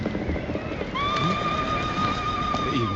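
A horse in a video game lets out a loud, drawn-out neigh after a few soft hoof clops, the whinny ringing clearly and close over quiet background sound.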